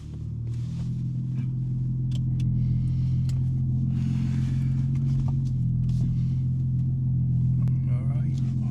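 A BMW M3 with a 6-speed manual drives along on a sunny California morning, its engine and exhaust giving a steady deep rumble that swells slightly, loud and close, with faint cabin noises over it.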